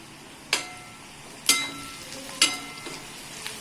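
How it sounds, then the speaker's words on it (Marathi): Peanuts crackle and pop in hot oil, with three or four sharp bursts of stirring over a steady faint sizzle. "शेंगदाणा कुरकुरीत होईपर्यंत परतून घ्यायचा"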